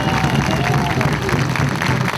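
A crowd applauds a speaker at a campaign-closing rally in Juan José Castelli, with dense, loud, continuous clapping and scattered cheers mixed with voices.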